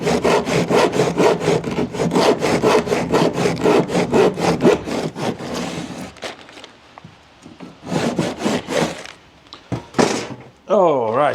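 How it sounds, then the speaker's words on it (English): Hand saw cutting through wood outdoors on a rural Welsh homestead, with rapid, steady back-and-forth strokes for about six seconds, then sporadic rubbing and a few short bursts of sawing. A voice is briefly heard near the end. "I've sawn that bit off there."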